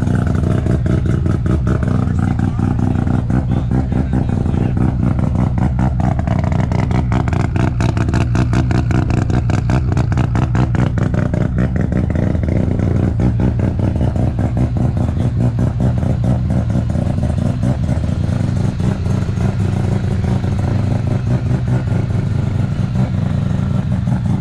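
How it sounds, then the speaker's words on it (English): A Mazda RX-7 with a rotary engine runs loud and close at a tire-sponsored car meet, a steady buzzy engine drone with clattering pulses throughout and no talk. "I'm not a huge RX-7 kind of guy or the rotary sound, but it's beautiful."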